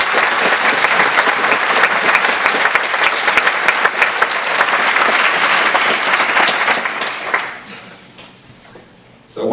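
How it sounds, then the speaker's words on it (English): A large audience at a live talk breaks into sustained, loud applause with dense clapping that continues for about seven seconds before tapering off, followed by a quieter moment and a fresh burst at the end. "So a big round of applause for all you guys."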